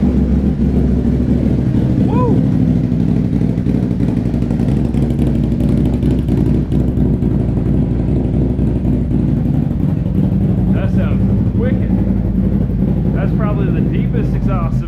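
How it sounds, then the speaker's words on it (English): A Can-Am Renegade ATV fitted with an RJWC APX dual exhaust idles and blips with a deep, throaty rumble, loud and close throughout, while a person talks over it. "Probably the deepest exhaust I've ever heard on a Can-Am."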